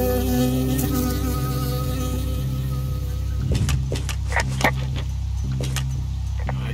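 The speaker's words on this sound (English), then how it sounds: "I got stung by a bee." Insect buzzing from a bee in the Firewatch video game, a steady droning hum with a repeating low tone running under it, with a few sharper bursts partway through.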